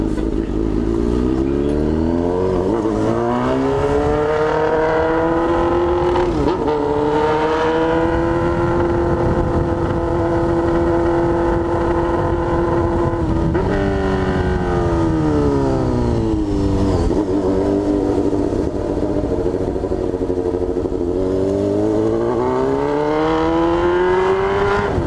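Honda Hornet four-cylinder motorcycle engine revving close up, repeated rising and falling throttle blips over a steady idle, loud and continuous with no talk.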